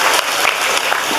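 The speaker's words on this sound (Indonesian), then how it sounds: "Tepuk tangan untuk wanita seluruh Indonesia kok." A crowd at an Islamic study gathering claps steadily and loudly for about a second, a dense, even patter of many hands with no voices over it.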